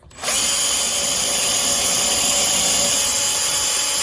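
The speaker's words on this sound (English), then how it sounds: "I'll put this into my little battery operated drill" Small battery-powered drill spinning a bit to clear a blocked, corroded fuel tank drain on an Aprilia motorcycle, a steady high whirring that starts abruptly and runs continuously up close with no talking.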